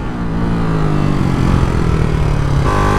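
Ducati Hypermotard 698 Mono single-cylinder motorcycle with an aftermarket exhaust pipe, its engine droning steadily up close under load while riding, the pitch shifting slightly near the end.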